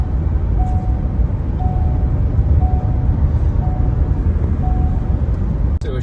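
A vehicle with a 10R80 ten-speed automatic transmission, heard from inside as a loud, steady drone of engine and road noise, with faint repeating tones throughout and a brief dip near the end.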